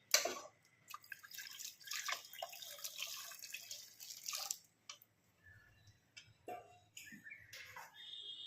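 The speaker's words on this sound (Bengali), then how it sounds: "এবার আমি এর ভিতরে গরম জল অ্যাড করে দেবো" Hot water is poured into a pot of cooking mung dal, a soft splashing trickle for the first few seconds, followed by quieter drips and faint sounds.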